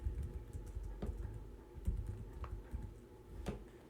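Quick keystrokes on a computer keyboard as a hexadecimal colour code is entered, a faint, irregular run of clicks and taps heard close and quiet with no talk.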